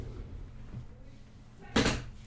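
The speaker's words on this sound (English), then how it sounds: "let me just close the door there." A door being shut indoors, heard as a single sharp, fairly loud thud-and-rattle near the end after quiet room tone with faint low murmuring.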